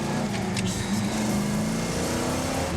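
An American muscle car engine idles with a steady, deep rumble and a continuous droning tone that holds fairly even throughout, with no talking over it.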